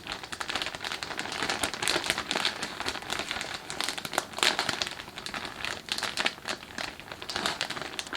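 Plastic bag crinkling steadily as paper mache clay with plaster of Paris is squished and mixed inside it, close and fairly loud, with continuous rustling and bursts of crackle throughout and no talking.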